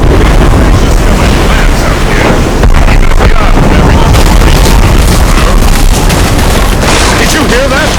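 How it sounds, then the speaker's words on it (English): Cannon fire booming through fog at sea in the video game Assassin's Creed Rogue, heavy low thuds and rumbles over constant wind and water noise, with continuous dense sound throughout. "Did you hear that? Cannon fire."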